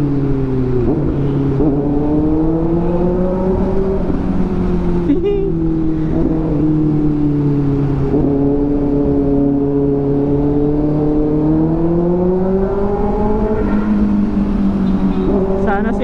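A 2024 Kawasaki ZX-6R sport bike fitted with an AR aftermarket exhaust drones steadily at low to moderate revs in traffic, its engine note rising and falling gently throughout without hard acceleration.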